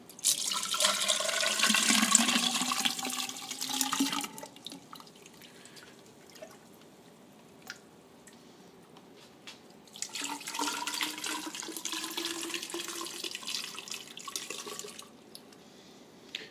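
Water poured into the top of a bio pellet reactor, whose PVC pipe has a recirculation valve. The pour splashes and gurgles in two bursts of several seconds each, with a quieter trickling gap between them, close to the microphone and with no talk.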